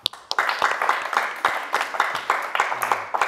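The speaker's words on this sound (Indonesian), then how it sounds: "Tepuk tangan dulu" An audience applauds at a comedy show, a burst of rhythmic clapping at moderate distance that builds quickly and carries on steadily throughout.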